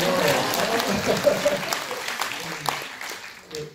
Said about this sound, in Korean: 박수 한번 쳐주시면요.